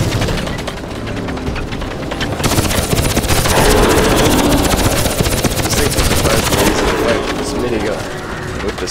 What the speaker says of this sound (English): this minigun